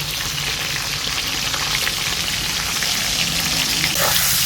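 A fish head fries in hot oil with salt and turmeric, giving off a steady, dense sizzle that stays loud and even throughout, with a faint clink near the end.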